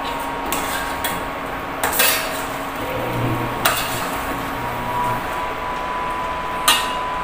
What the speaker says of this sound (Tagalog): So, haluin lang siya hanggang sa mag-dry up yung sabaw niya.